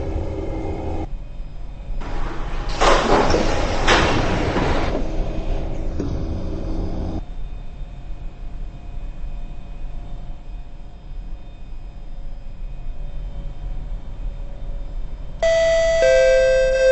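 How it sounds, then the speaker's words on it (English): An SMRT KHI C151 train on the Singapore MRT, running from Dhoby Ghaut to Marina South Pier, sounds a loud warning chime as its doors close, followed by steady interior rumble and a second chime near the end. "Doors are closing. Doors are closing."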